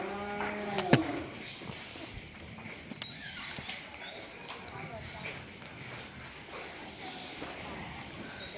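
A Holstein Friesian dairy cow lets out one short moo near the start, then farmyard ambience and faint bird-like calls continue while a person talks.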